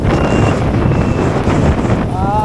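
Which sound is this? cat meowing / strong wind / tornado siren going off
strong wind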